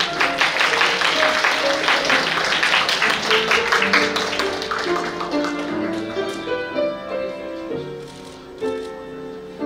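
Wedding ceremony audience clapping during the ring exchange, a dense patter of many hands that gradually thins and fades, with sustained music tones underneath.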